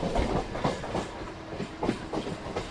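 A train rolls along one of the main rail lines through Dharavi in Mumbai, its rumbling wagons giving a steady, repeating clatter of wheels over the joints at moderate distance.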